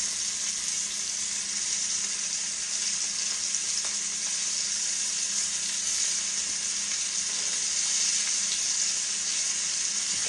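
Beef sizzles and fries steadily in a skillet, a dense, even crackle that stays close and loud throughout with no voices.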